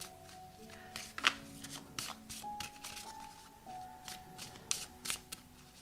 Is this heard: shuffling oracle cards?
yes